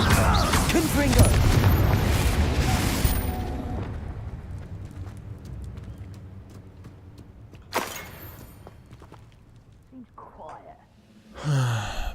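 An explosive spell cast in Hogwarts Legacy: a loud, crackling blast fills the first few seconds, then fades into a rumbling tail. Sharp impacts follow later, and some breathy vocal sounds are mixed in.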